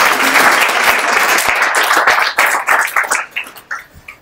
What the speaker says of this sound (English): please, I would like you to give yourself a round of applause before starting